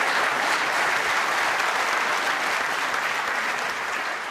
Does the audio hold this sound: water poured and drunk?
no